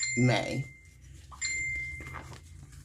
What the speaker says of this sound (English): I'm sorry about my phone ringing